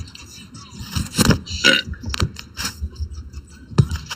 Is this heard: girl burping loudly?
yes